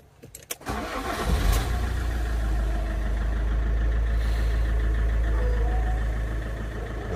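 A car engine cranks briefly with a few sharp clicks, catches, and settles into a steady, fairly loud idle, heard up close during a brake warning light repair.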